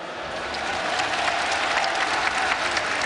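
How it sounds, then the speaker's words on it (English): Sustained applause from a large crowd at a League of Legends esports event at Gamescom, greeting the Acer Poland team; dense, steady clapping fills the hall for about three seconds without letting up. "Let's give a nice round of applause here for Acer Poland."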